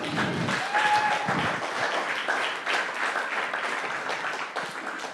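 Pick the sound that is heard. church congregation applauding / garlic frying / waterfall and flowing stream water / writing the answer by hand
church congregation applauding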